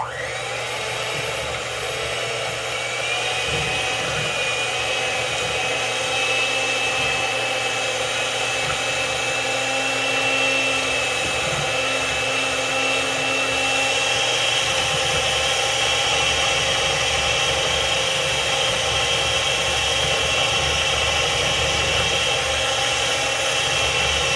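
An electric mixer stirs banana bread batter with vanilla, giving a steady, even motor whir and hum that runs unbroken for the whole stretch, with no voices.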